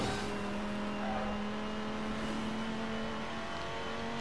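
A four-wheel-drive car drifting in the street-racing video game Midnight Club Los Angeles: steady high engine drone with a sustained whining tone and a smeared tyre-slide hiss, continuous and fairly close, without any talk.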